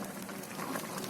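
Tomato jam bubbles in a pan at a steady simmer, a soft, continuous gurgling and popping close by with no talking.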